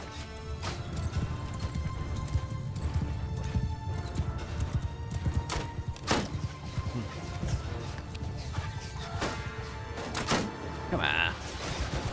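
Mounted horse archers on the move in the Bannerlord video game, a dense rumble of many hooves clip-clopping continuously with occasional whinnies and battle crashes, loud throughout.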